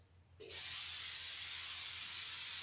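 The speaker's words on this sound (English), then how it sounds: "now we're going to take our Pam olive oil spray" After a short click, an olive oil aerosol cooking spray hisses continuously and close up onto baking pans, a steady bright spray lasting about two seconds.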